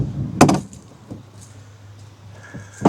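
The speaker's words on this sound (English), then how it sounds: "Drawers open up all the way." DECKED drawer system in the bed of a 2025 Ford F350 pickup, a drawer sliding out with a sharp clack and rattle, then a quiet stretch and another knock at the end.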